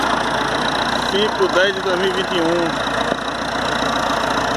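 Tractor engine idling and running steadily while cultivating a drip-irrigated cornfield, a constant mid-pitched rumble with someone speaking briefly over it near the microphone.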